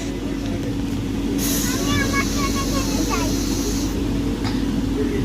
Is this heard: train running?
yes